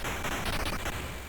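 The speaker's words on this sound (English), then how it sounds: "cannons back to shooting at you" Cannon fire in the 1981 Konami/Stern arcade game Strategy X, a dense, steady barrage of crackling noisy bursts filling the whole stretch at an even, close level.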